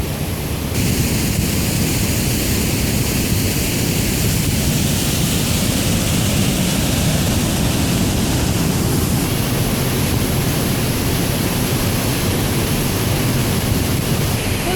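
A waterfall on the Mist Trail in Yosemite roars as a loud, constant broadband rush of falling water and spray, close by and unbroken, with no talk.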